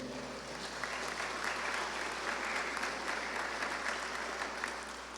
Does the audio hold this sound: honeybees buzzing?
no